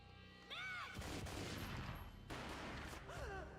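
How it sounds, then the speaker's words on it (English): Gunfire in the video game Max Payne 2 erupts in a dense, loud burst of shots lasting over a second, broken by a brief pause and then a second sustained volley, with whooshing slow-motion effects before and after. "A gunshot"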